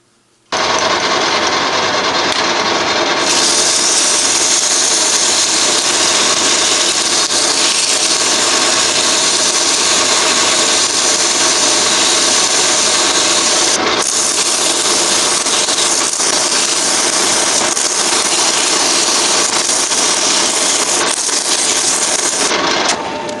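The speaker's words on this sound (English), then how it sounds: "Well, that was a fairly stiff 120 grit sanding disc." A stiff 120 grit sanding disc grinds against the steel steering column splines of a Ford Thunderbird steering box, a loud, harsh, continuous abrasive whir that runs for over twenty seconds with slight shifts in pitch.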